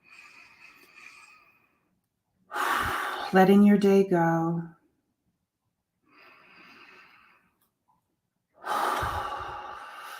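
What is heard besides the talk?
slow deep breathing in and out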